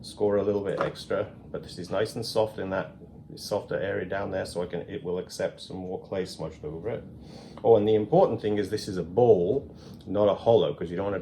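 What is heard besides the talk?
No everyday noises stand out.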